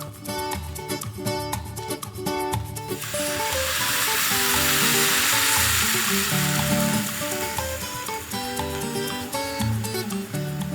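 An onion and pepper mixture is poured into a hot pot for cooking meat and rice, raising a loud, steady sizzle that swells and then settles into continuous frying over a background of clatter.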